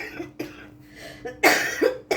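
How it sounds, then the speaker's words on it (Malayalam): Several sharp, harsh coughs burst out close by in a ragged series, with short pauses between them and no talking. "അപ്പോഴാ ചുമ കീറി വന്നത്"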